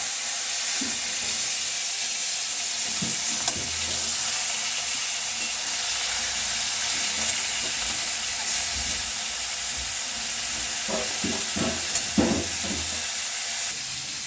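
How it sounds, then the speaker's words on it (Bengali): Fish frying in hot oil in a pan, a continuous loud hiss and sizzle with a few soft clinks and scrapes as pieces are turned over, close and without talk. "উল্টে পাল্টে এদিক ওদিক করে আমি পুরো মাছগুলোকে ভালো করে লাল লাল করে ভেজে নেব।"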